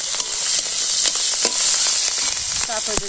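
Boiled potato with cumin, green chili and onion frying in hot oil, a steady close sizzle with scattered crackles and stirring scrapes throughout.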